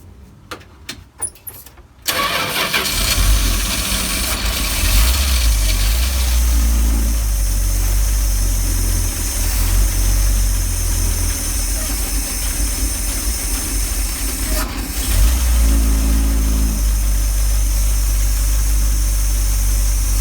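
A 1977 Dodge B200 van's engine cranks briefly and catches at about two seconds, then settles into a loud, steady, rumbling idle that runs close by without talk.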